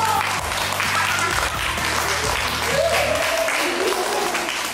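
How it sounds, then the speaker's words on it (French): Sustained crowd applause at a sports festival medal ceremony for a gold medal, steady dense clapping throughout, loud and close, with some crowd noise and background voices mixed in. "Médaille d'or sous les applaudissements."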